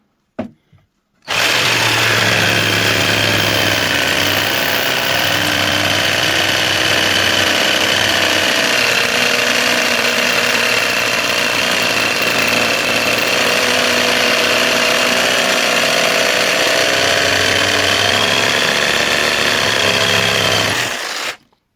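A LEADER Lite BD20-65M cordless jigsaw running on a 7.5 Ah battery cuts through 40 mm wood, a loud steady whirring buzz that starts abruptly and holds for about twenty seconds before cutting off.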